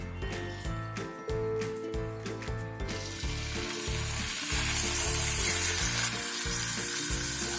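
Chicken kabab pieces frying in melted butter in a pan, a steady, loud, close sizzle that swells brighter partway through, with faint clinks and no talking.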